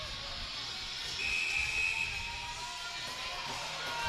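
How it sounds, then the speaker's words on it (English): Sharp referee's whistle blast at an amateur ice hockey game, a steady high tone of a couple of seconds rising over the dull arena crowd murmur. "There's the whistle."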